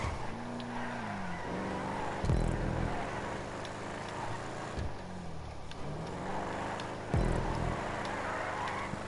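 Vapid Dominator GTX muscle car in Grand Theft Auto 5 races a lap, its engine revving and shifting with loud rising and falling pitch sweeps and a few sharp bursts, close and steady throughout.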